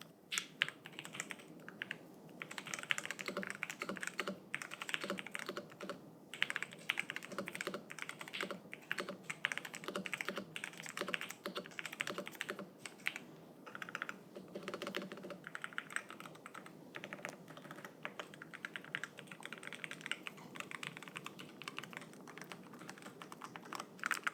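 Fast, steady typing on a Ducky One X wireless mechanical keyboard, a dense run of close, crisp key clacks with brief pauses, heard alone for about twenty-four seconds.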